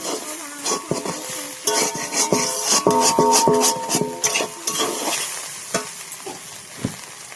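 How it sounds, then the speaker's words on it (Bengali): Vegetable chow mein stir-fries in a hot pan with a loud, close sizzle, broken by sharp scraping and clanking strokes of a spatula against the metal throughout. "কত সুন্দর ভাজা হয়েছে।"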